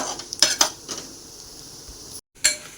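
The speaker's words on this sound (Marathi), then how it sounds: "आता आपल्याला सांडगे फ्राय करून घ्यायचे।" Sandge, sun-dried lentil dumplings, frying in a pan, a soft sizzle under a few sharp metallic clinks and scrapes of a spoon against the pan, close and without talking.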